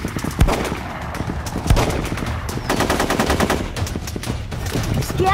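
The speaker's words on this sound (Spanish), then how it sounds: "¡Son balazos!" Gunfire in a Spanish-language action film rattles in loud repeated automatic bursts and fusillades, punctuated by heavier single blasts, with no talking.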